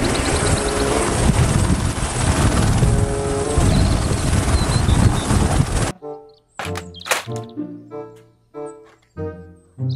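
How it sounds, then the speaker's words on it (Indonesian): A loud toy helicopter roar with chopping rotor noise for several seconds, then it cuts off abruptly and a short burst of sung or spoken voice follows. "Helikopter."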